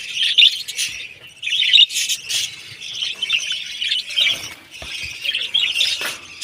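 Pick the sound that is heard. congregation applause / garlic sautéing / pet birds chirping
pet birds chirping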